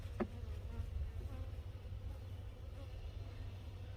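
A low, steady buzz of honey bees from a hive knocked over by a winter storm hums continuously, faint and close, with a soft click near the start.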